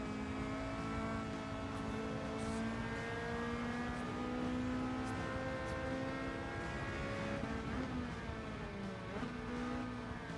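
Race car engines whine through gear changes at Watkins Glen in Gran Turismo 7, several rising and falling tones that overlap at moderate volume with a faint tire squeal, no voices.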